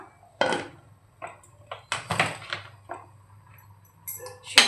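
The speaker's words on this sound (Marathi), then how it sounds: "आता आपण कुकरचं झाकण लावूया" A metal lid being fitted onto a pressure cooker of boiling onion and chana dal: a series of short clanks, clinks and scrapes, close and fairly loud, with quiet gaps between them and a low steady hum underneath.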